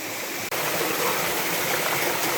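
Constant rushing water of a flowing forest stream near Krok Ma Tai Waterfall, Khao Phai, Pattaya, loud and close, broadband and steady throughout with a tiny break at the start.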